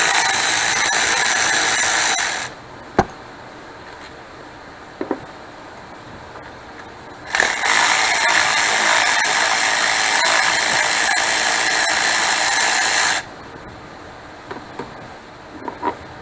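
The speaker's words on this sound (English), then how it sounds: "got you a battery powered ratchet, best thing you can have too" Battery-powered ratchet loosening thermostat housing bolts on a Dodge Avenger engine, two long whirring bursts of motor and clicking pawl, close and loud, separated by quieter pauses with scattered metallic taps and clicks.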